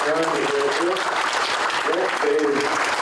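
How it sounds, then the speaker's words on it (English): A conference audience at an economic innovation summit gives a round of steady applause while a voice talks over the clapping. "Let's give this gentleman and his assistant another round of applause"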